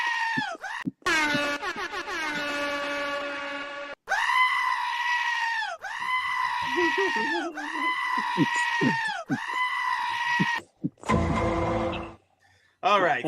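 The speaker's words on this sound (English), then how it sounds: "Call out the goats." Goats bleat in a rapid series of loud, wavering calls, one after another at close range, followed by a brief harsh noisy burst near the end.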